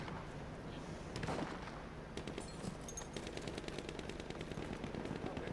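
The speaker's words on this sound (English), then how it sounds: "Someone's shooting from behind." Battlefield 1 gunfire: bursts of rapid machine-gun fire and scattered shots crackle over a dense rumbling battle background, the rattling bursts growing more frequent through the second half.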